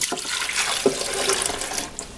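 Water pours from a measuring cup into the reservoir of a Keurig coffee maker, a short splashing trickle lasting about two seconds, close by and alone.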